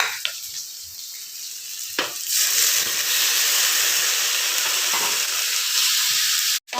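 Tomatoes dropped into hot oil over browned onions for idli masala, giving a steady broadband sizzle that swells after about two seconds and holds loud and close, with a couple of sharp clinks from a utensil.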